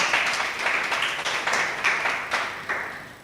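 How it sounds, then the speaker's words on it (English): Round of applause for the finalist debating teams from Grenada and St. Lucia at a Windward Islands debating competition final, moderately loud clapping that swells in repeated waves over about three seconds. "I want to give them a round of applause."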